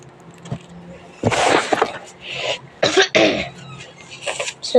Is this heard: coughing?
yes